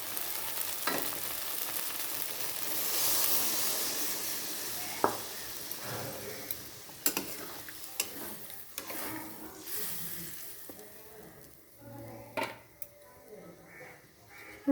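Water poured into a pan of spices cooked down with boiled potatoes for a small-fish curry sets off a strong, steady sizzle and hiss, with scattered stirring clicks and utensil taps.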